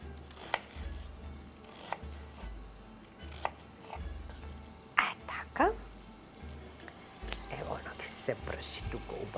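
A knife chops vegetables for a Romani turlija stew, with a handful of sharp, scattered cuts spread across the clip over a steady low hum and faint kitchen clatter.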